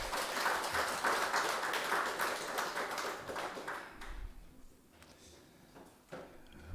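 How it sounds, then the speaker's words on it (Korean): A church congregation applauding during a Korean Sunday service, a dense wash of clapping that fades after about four seconds into scattered taps and murmurs. "우리 하나님께 감사와 영광의 박수 올려드리겠습니다."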